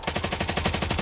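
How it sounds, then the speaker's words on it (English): Teammate's automatic gunfire in Call of Duty Warzone Plunder mode, a rapid, evenly spaced burst of about a dozen shots, moderately distant and alone. "Teammate's shooting somebody."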